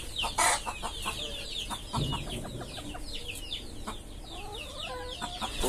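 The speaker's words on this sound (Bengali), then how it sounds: "তো এই তো ফার্স্টে মুরগিটাকে নিয়ে নিলাম।" A free-range village hen clucks and squawks in agitated bursts while being caught and held for Ranikhet vaccination, close and lively, with rustling and scuffling of handling in between.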